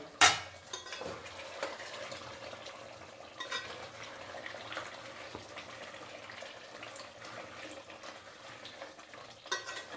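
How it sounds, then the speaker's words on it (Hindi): Mutton fries in a pot for Champaran-style cooking, a faint, steady sizzle broken by scattered metallic scrapes and clinks from stirring, with a sharper clatter at the start and near the end. "मटन बहुत अच्छा भुन रहा है और सारा खासियत इसके भुनने में ही है।"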